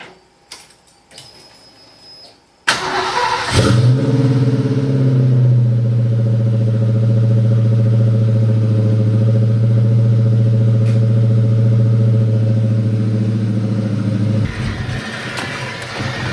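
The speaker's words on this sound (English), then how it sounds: "Cold start!" A Ford Mustang engine cold starts with a sudden loud crank and catch, then settles into a steady, rumbling high idle that holds close and loud for about ten seconds before dropping lower.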